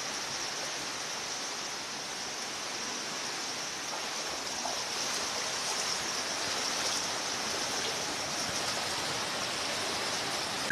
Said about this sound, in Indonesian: terlalu deras banjir di kota Kupang